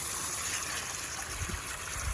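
Water pours steadily out of a DIY pond filter, a close, continuous rushing and trickling flow with no voices.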